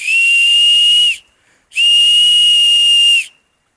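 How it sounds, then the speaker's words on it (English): Two long, loud, shrill blasts from a small signaling whistle made of deer antler, each a steady piercing tone lasting just over a second, separated by a brief pause, close up with no talking. "a little signaling whistle. Look at this thing, made out of a deer antler."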